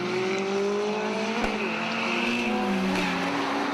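GT Cup race cars at full throttle around Oulton Park's Lakeside section, a loud, steady engine drone with a brief sharp burst midway and rising, shifting pitch as cars pass.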